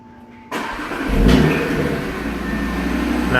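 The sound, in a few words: 2018 Audi RS3 sedan engine starting by remote start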